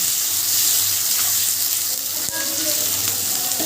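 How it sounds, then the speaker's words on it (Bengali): Chopped onions frying hard in hot oil over a high gas flame for birista, a steady loud close sizzle running throughout with a faint clink partway, no talking. "কুচিয়ে রাখা পেঁয়াজটাকে একটু লালচে করে ভেজে তুলে নেব"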